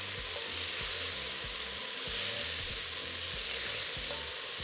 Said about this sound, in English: we're just going to give it a flip and allow the other side to get nice and seared as well